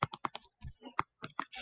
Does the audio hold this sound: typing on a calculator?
yes